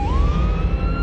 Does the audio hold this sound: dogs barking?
no